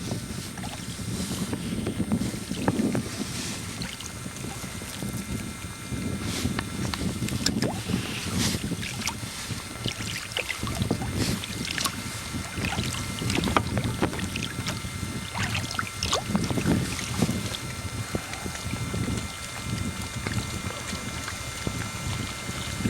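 Steady wind rushes with water churning around a boat pushing through Arctic ice in uncharted waters, a constant broadband roar with dull low knocks and swells, loud and close throughout.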